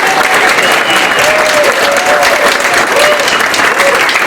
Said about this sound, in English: Emily, can we give Emily a round of applause?